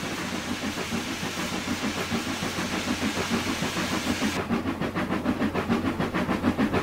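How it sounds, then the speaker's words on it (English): A log train rolls past in a train simulator game, a steady mechanical rumble with a rhythmic wheel clatter that grows more pronounced toward the end, with no voices. "That's a log train."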